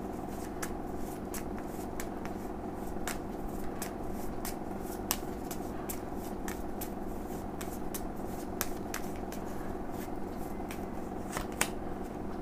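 Tarot cards are shuffled and handled in a steady stream of crisp, close card clicks and snaps that run throughout over a low room hum, with no one talking.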